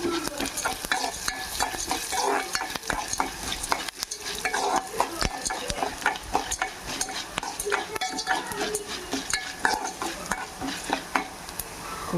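Coriander seeds frying in hot oil in a pan while being stirred, a close, steady sizzle overlaid with continual scraping and clinking of a spoon against the metal pan.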